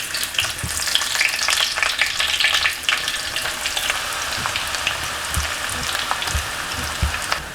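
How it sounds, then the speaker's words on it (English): Finely sliced onion fries in oil and ghee with a loud, steady sizzle and crackle, close by. Occasional stirring noises come through, and no one speaks. "And now let's saute till the onions turn slight brown."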